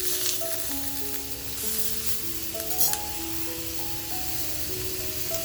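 Butter garlic tiger prawns sizzle inside a tandoor, a constant close frying hiss with light crackles and a brief louder spatter, while background music plays.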